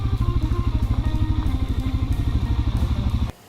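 A Suzuki DRZ400S single-cylinder motorcycle engine idles while warming its oil, a loud close steady thumping beat that cuts off abruptly near the end.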